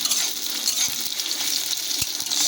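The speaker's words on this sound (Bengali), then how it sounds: "আমাদের পেঁয়াজটা যতক্ষণ ভাজা হোক একটু ভেজে নেব" Onions crackle and sizzle in hot oil, a dense steady hiss punctuated by light clicks and taps of stirring.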